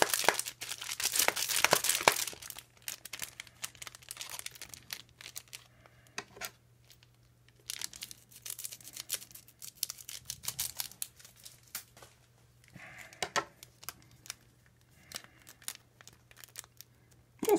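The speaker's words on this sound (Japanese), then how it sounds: "パックムク専用のハサミと。" Scissors snipping and crinkling open a foil Yu-Gi-Oh Savage Strike booster pack wrapper, close and fairly faint, with scattered crunches and rustles of the wrapper between cuts and no talk.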